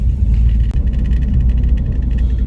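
A cammed 5.7 Hemi with its exhaust cutout open gives a loud, deep, continuous rumble from inside a moving car, heavy and droning with a brief dip near the start.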